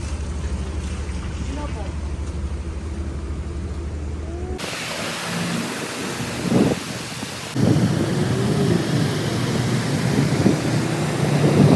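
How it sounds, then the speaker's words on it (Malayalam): Heavy rain pours steadily with a dense, loud hiss that grows rougher midway, as if the recording moves nearer to the downpour, and a few muffled thumps sound under the rain. "വീണ്ടും മഴ വന്നിരിക്കുന്നു."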